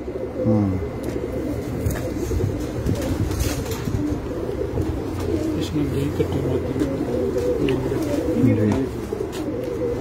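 Pigeons on a rooftop loft coo in low, repeated throaty phrases throughout, overlapping with someone talking nearby and occasional faint wing flutters.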